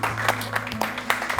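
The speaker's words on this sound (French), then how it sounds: "Est-ce qu'on peut applaudir, s'il vous plaît?" A short burst of audience applause at a Cameroon event honouring an entrepreneur, a dense patter of many hands clapping at moderate volume.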